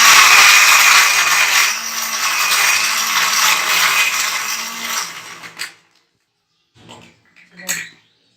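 A blender whirs loudly and steadily as it crushes ice into an orange and yogurt smoothie, then stops abruptly; a few faint clinks and handling sounds follow in the quiet.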